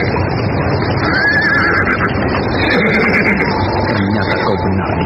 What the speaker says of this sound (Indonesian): 2 ekor kuda telah berderap meninggalkan halaman istana